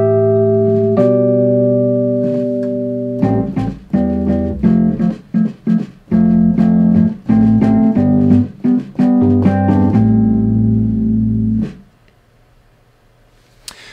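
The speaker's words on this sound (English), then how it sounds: "This one is called Sparkle Top, and it sounds like this." Nord Stage 2 electric piano on the Sparkle Top preset playing sustained chords and a run of quick, bright, tine-edged notes, loud and alone, ending in a fading low tail.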